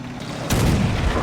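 A single heavy anti-tank gun shot in the World War II strategy game Men of War: Assault Squad, set in the 1944 battle for Saipan, bursts in loud and close, followed by a dense rumbling tail of battlefield noise.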